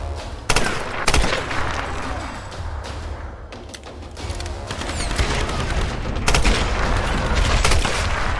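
Gunfire in the video game Tomb Raider (2013), during a forest endurance fight: several sharp, loud shots and bursts stand out over a dense, continuous roar of combat noise, with no talk.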